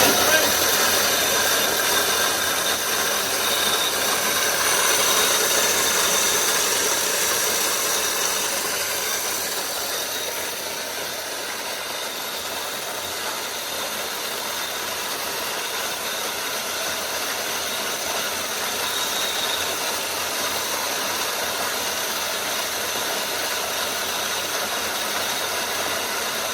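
A Vevor electric grain mill with a stainless steel hopper grinds grain in a loud, constant mechanical whir and rattle that runs on without a break for the whole stretch, easing slightly partway through, with no one speaking.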